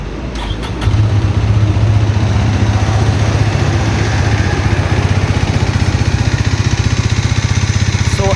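A Hero Xtreme 250R motorcycle idles after starting up, its exhaust giving a steady, close, rapid pulsing burble that holds even and loud throughout.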